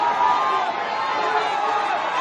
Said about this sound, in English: Crowd willing him on. They want to see him finish.